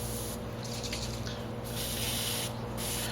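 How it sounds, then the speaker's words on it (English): Ballistol lubricant is sprayed into a lock to free up its wafers, with two or three short, hissing aerosol bursts over a steady low mechanical hum, close and fairly loud. "I'm just going to use a lubricant real quick and see if I can't free up the wafers that are inside."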